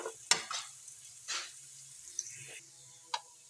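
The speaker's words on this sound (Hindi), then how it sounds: "हम यहाँ पे लेंगे पैन और डालेंगे 2 चम्मच ऑयल, 1 टीस्पून लहसुन अदरक का पेस्ट" Garlic-ginger paste frying in two spoonfuls of oil in a pan, with soft sizzling, a few sharp clinks and stirring scrapes of a spoon, close and fairly quiet, no talking.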